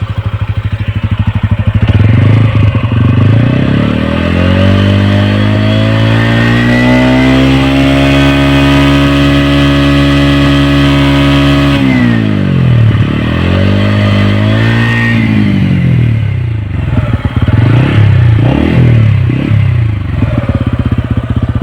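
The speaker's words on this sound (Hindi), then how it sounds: "इंजन का आवाज़ आप सुन लीजिए" A TVS Ronin 225 cc motorcycle engine runs loudly and steadily up close, its pitch rising and falling as it revs, with wind rushing across the recording.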